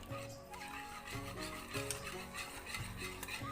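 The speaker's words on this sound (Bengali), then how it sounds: "এবার এই সুজিটা আমি গরম দুধের মধ্যে দিয়ে দেব আর খুব ভালো করে মিশিয়ে নেব।" Semolina being stirred into hot milk makes a soft, rhythmic scraping and rubbing against the pot, repeating in steady strokes close by and at low volume.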